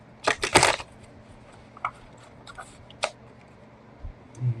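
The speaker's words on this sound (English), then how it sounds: "One more shuffle." A deck of playing cards is shuffled, giving a quick burst of riffling flutters followed by a few scattered light taps and clicks in a quiet room.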